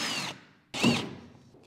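Power tool on a BMW E30 M3 with S54 engine, two short whirring bursts driving a fastener tight, separated by a brief pause, close and fairly quiet.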